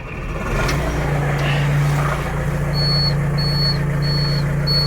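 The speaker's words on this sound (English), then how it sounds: "That's when you know it's a cold start." John Deere 344G payloader engine idling steadily after a cold start on a frigid day, a continuous low diesel rumble with a faint intermittent high whine repeating in the background.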